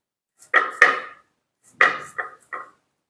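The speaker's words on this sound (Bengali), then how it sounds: "আমি এবারে পেঁয়াজ টমেটোটা কেটে নেব, টমেটোগুলো কেটে নেব" Tomatoes chopped with a knife on a board, a few sharp close cuts in two short clusters separated by silence.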